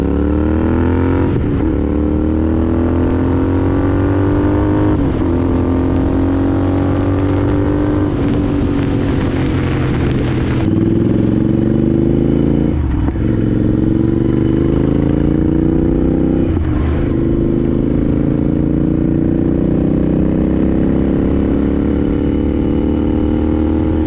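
Royal Enfield Interceptor 650 motorcycle with custom exhaust being ridden through Portland, a loud steady twin-cylinder drone that rises through the gears, with brief dips at shifts and wind noise over the microphone, no talk.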